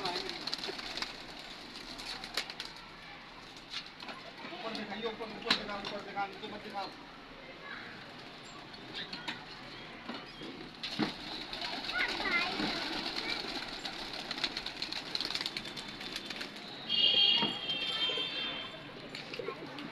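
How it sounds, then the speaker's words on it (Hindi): Pigeons on a rooftop coo in soft, repeated low calls among other ambient noise, mostly under ongoing talk. "हाँ चलो अभी कबूतर खोलते फिर दिखाते उतरा है नहीं उतरा, देखते हैं।"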